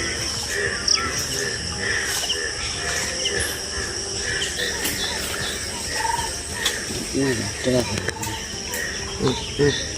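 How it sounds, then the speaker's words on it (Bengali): Frogs croak loudly after rain, in a dense outdoor chorus with repeated throaty calls standing out near the end. A voice talks over the calling. "পাশে দেখুন ব্যাঙের আওয়াজটা কত জোরে জোরে শোনা যাচ্ছে বৃষ্টি হয়ে গেছে তার ওরা ডাকছে"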